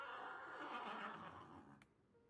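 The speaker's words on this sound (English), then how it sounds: "But I'm trying to pet this horse." Horse neighing in the video game Calico, a drawn-out whinny that swells and then tapers off, followed by a brief click and quiet.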